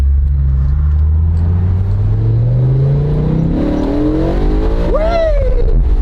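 Car accelerating hard with an engine that redlines at 8,400 RPM, a loud, close interior drone rising steadily in pitch through a long pull, then a quick shift and another upward sweep.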